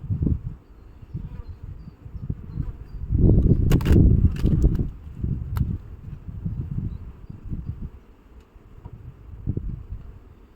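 Low droning hum of many honey bees buzzing close by at an apiary, steady with gusts of wind rumbling through, swelling louder in the middle.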